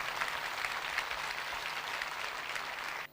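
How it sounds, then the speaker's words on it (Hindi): Congregation clapping vigorously in a worship gathering, a dense even wash of applause lasting about three seconds before stopping sharply. "आओ ऐसे खुदा के लिए जोरदार तालियां बजाएं।"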